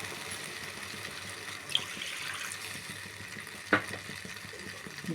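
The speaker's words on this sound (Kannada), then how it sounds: "ಇವಾಗ ಸ್ವಲ್ಪ ಪಾಕ ಮಾಡೋಕ್ಕೆ ನೀರು ಒಂದು ಅರ್ಧ ಗ್ಲಾಸ್ ಹಾಕೊಂಡ್ರೆ ಸಾಕು" Half a glass of water poured onto sugar in a pan to start a syrup for rava gulab jamun: a steady, fairly soft rushing trickle with a couple of brief clinks.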